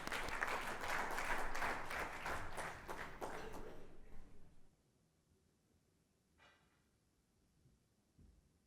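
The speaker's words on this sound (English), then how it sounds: "A round of applause for both of them," Audience applause at a fireside chat during a Las Vegas conference fills the first few seconds with dense clapping, then fades out into quiet room tone.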